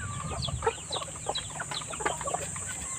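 Laying hens in a farm coop cluck in short repeated bursts over a steady hum, several birds close by and overlapping, no speech.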